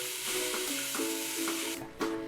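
Seasoned corn and wheat flour dough for tipaguaçu sizzles steadily in an iron pan over embers, the close frying hiss broken by a few rhythmic scrapes and stirs.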